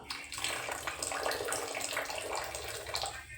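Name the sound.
water being poured into cooking pan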